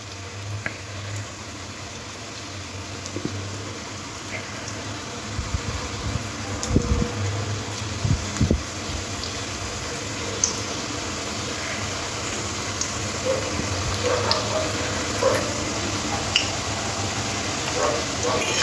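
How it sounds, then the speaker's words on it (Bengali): Egg and onion fritters (egg piyaji) frying in oil on a medium-low flame, a soft steady sizzle under a constant fan-like hum, with a few louder utensil knocks and clatters partway through. "গ্যাসটা মিডিয়াম টু লোতে রাখবো, রেখে একদম লাল লাল করে ভেজে নেব"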